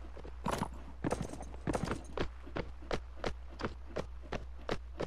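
Horse hooves in Mount & Blade: Warband, a regular run of crisp clip-clop hoofbeats at a steady trot, loud and close, with a faint low hum underneath.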